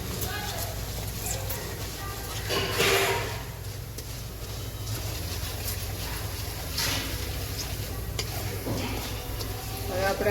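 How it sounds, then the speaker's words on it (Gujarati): Chana dal and urad dal roast in a pan with mustard seeds and curry leaves for upma, giving a continuous low sizzle with occasional stirring scrapes while a voice talks over it. "આપણે આ ચણાની દાળને શેકી દઈશું પહેલાં"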